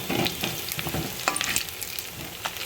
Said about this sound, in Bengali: চিংড়ি মাছটাকে ভেজে নিচ্ছি আমি